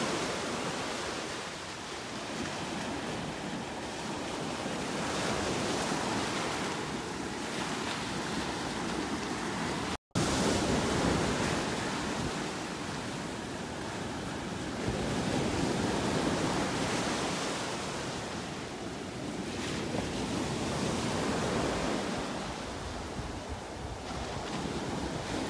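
Rough surf pounding the shore at Delnor-Wiggins beach in North Naples, Florida, a continuous roaring wash of breaking waves swelling and receding, heavy wind buffeting the microphone throughout, with a brief dropout near the middle.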